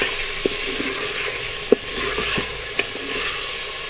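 Mutton frying with ginger and garlic in a pot for aloo mutton curry, a steady close sizzle with a few sharp taps of a spoon against the pan.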